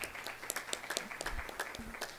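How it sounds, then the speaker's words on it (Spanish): Scattered audience applause at a biodiversity and ecosystem services panel session, fairly faint and thin, with individual claps standing out as distinct sharp hits rather than a full roar. "aplauso, por favor."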